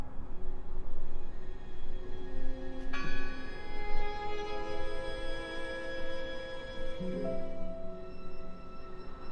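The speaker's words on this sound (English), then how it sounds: "I heard the bell." A bell rings out in the video game Draugen, a single bright struck tone at about the three-second mark whose ringing partials sustain and slowly fade over ambient background sound.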